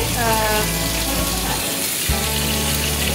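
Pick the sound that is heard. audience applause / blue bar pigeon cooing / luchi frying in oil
luchi frying in oil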